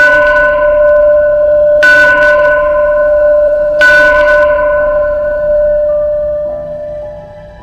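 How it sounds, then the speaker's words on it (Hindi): Village temple bells ringing by themselves at night in a horror story scene: two loud, resonant strikes a couple of seconds apart, each leaving a long shimmering hum that slowly fades. "रात के 3 बजे गांव के मंदिर की घंटियां अपने आप बजने लगीं।"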